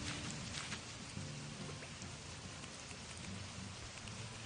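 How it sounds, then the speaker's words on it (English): A waterfall in the Animal Crossing video game rushes as a steady, quiet, broadband wash of falling water, unbroken throughout with no talking. "Oh, yeah, that's just the waterfall."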